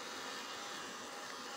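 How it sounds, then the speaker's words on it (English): A heat gun blows steadily on freshly inked craft tags, giving a constant, fairly quiet rushing whoosh over a brief stretch with no other sounds. "I'm just going to give these a little bit of a dry with my heat gun"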